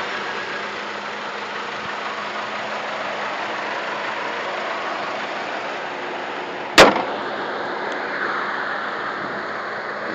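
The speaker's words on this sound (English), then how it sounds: "So that is the vehicle running." A 2005 PT Cruiser idles steadily with an even mechanical hum, broken by a single sharp click or thump partway through before the idle settles again.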